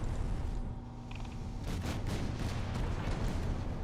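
Naval gunfire and explosions from the warship battle game Ultimate Admiral Dreadnoughts, with steady low rumbling and a rapid string of booming blasts that stay loud throughout, no voices.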